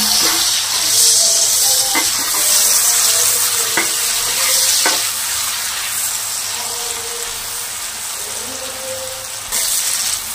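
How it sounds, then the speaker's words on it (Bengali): Onions fry loudly in oil seasoned with white cumin for a banana-flower and prawn dish, a dense close sizzle with occasional sharp scraping stirs from a spatula. "পেঁয়াজটা একটু ভাজা ভাজা করে নিই।"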